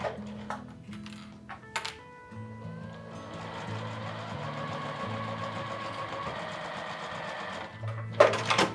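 A sewing machine runs a dress seam, starting with a few short bursts of stitches and then settling into a steady, continuous hum close by, with a brief louder clatter at the end.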